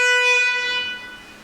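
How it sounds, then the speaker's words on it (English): A single car horn honks near a V10 TDI Volkswagen Touareg during alternator work, one clear sustained tone that fades out within about a second. "Honk."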